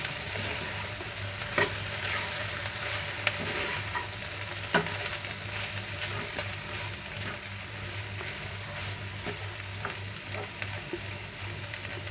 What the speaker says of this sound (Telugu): ఒక రెండు స్పూన్లు పౌడర్ అంతా వేసుకుందాము ఒకసారి బాగా కలుపుకుందాము ఈ పల్లీ పౌడర్ క్యాప్సికమ్ క్యారెట్ ఆలుగడ్డకు పట్టేలాగా